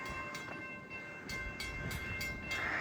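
CSX E800 empty coal freight train passing in a blizzard, with a rhythmic series of wheel clicks over a steady rumble and roar of wind-driven snow.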